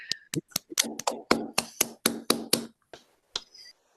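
Sparse, uneven handclaps from a few unmuted participants in a virtual meeting, about a dozen distinct close claps over a few seconds, tapering off into silence.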